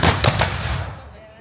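Musket volley at an English Civil War reenactment on a village church farm, one loud booming blast with a quick second crack, then a long rumbling decay outdoors.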